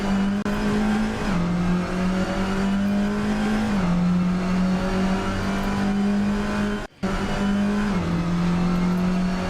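A touring car engine in a racing video game drones loud and close, holding a steady high revving pitch with a couple of brief dips as gears change and one short cut-out.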